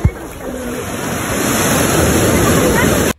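Sea surf at Alorro Crystal Beach Resort, a broad steady wash of waves building slightly louder and close by before stopping abruptly, with a faint voice at the start.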